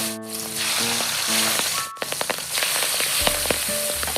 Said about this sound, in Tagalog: At nang umini na yung mantika mga kasolid, nagprito na nga pala ako.